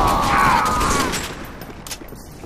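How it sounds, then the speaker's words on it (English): A quick burst of gunfire, several rapid shots blending into a loud crackling fusillade at the start that fades out within a couple of seconds. "I'm being shot at!"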